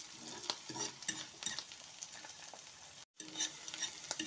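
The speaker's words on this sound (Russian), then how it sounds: "Обжарить вот так вот." Mushrooms fry in a pan for a New Year's salad, making a close, crackling sizzle broken by scraping stirs, with a brief dropout of silence partway through.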